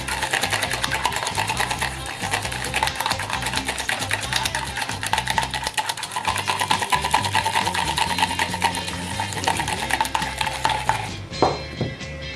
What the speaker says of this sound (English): you start mixing, it's going to squirt all over the place. So do it in a deep bowl